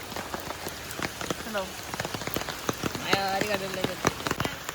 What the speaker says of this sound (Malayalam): ഫുൾ മഴയാണ്